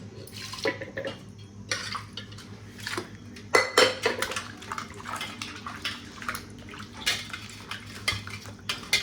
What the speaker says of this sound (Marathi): आपले बटाटे तर धुवून झाले.